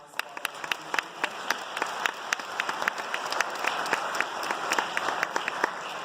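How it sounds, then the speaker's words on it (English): An audience at a high school fall sports awards night applauds the coaches, steady crowd clapping with distinct sharp claps standing out, sustained for several seconds with faint voices beneath. "give them a round of applause"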